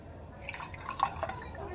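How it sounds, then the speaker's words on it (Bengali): Brewed green tea pours through a small strainer into a cup, making soft, close trickling and a few light drips in a quiet room. "পুরো গ্রিন টিটা ছেঁকে নেব"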